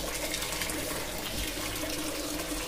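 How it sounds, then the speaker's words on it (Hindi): A washing machine takes in water, giving a continuous, even rushing and gushing flow that stays close and steady throughout, with no talk. "हाई पे हमारे वाटर सेलेक्ट है पानी ले रहा है मशीन"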